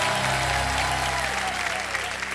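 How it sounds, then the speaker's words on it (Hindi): A studio audience on the Hindi quiz show Kaun Banega Crorepati claps in sustained, loud, even applause from start to finish. "ताली बजती रह जाए।"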